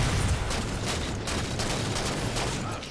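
Dense gunfire and grenade blasts in a split-screen team shooter game, a continuous loud fusillade of rapid shots and booms filling the whole stretch.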